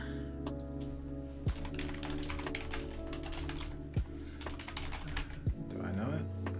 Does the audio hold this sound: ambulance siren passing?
no